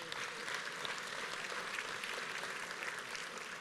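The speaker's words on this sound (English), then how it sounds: "How about a nice round of applause for everybody?" Applause from an audience at a county awards ceremony, steady, dense clapping heard from some distance, fairly quiet and unbroken.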